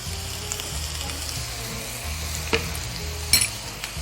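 Minced garlic sizzles in a pan beside browned ground beef and onion, a steady close frying crackle broken by a couple of sharp utensil clinks against the pan.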